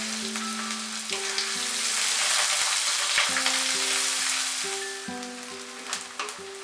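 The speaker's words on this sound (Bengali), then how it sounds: "পেঁয়াজটাকে আমরা মাঝারি আঁচে ফ্রাই করব" Chopped onions fry over medium heat in a pan, giving a continuous even sizzle and crackle that holds steady with no talking.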